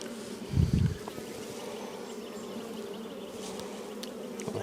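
Honey bees buzz steadily around an open hive during an inspection where frames hold stored pollen, brood, larvae and eggs, a continuous low drone with a louder burst near the start and no talk.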